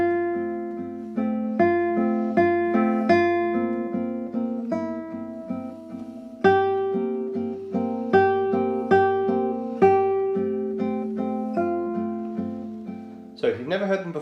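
Close solo classical guitar plays Carcassi étude No. 16 from Op. 60, a plucked melody over bass and accompaniment with steadily decaying notes, ending in a brief bright strum or scrape.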